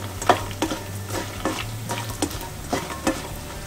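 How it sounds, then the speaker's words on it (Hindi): Fox nuts (makhana) fry in hot ghee in a pan, a steady soft sizzle broken by regular scraping stirs about every half second, close and moderately loud, with no talking. "मखानों को इस तरह से तल लेंगे।"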